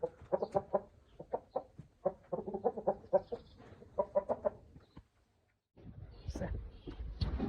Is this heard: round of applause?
no